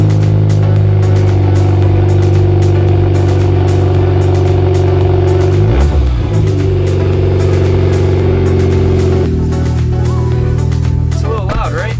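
Dodge SRT4 engine idling hard after a cold start, its exhaust cut open in the middle, a loud, steady droning rumble with a brief wavering surge near the midpoint and a shift in tone toward the end.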